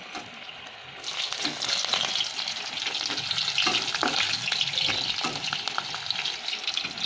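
Green chillies and onions frying in a pan with spices such as cinnamon, making a loud, continuous, close sizzle that swells after the first second and holds steady with crackling pops.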